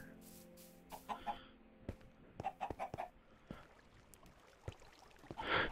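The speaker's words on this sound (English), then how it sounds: "There's so many chickens here." Chickens clucking in the video game Minecraft, a few short scattered clucks and calls over a quiet game backdrop, with a louder burst near the end.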